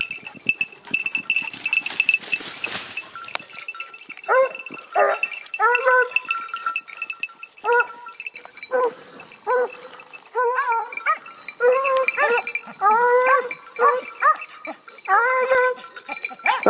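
A hunting dog out on a mountain during a hare hunt gives repeated high, yelping cries in short bursts, some near and some farther off, with rustling and a voice now and then in between.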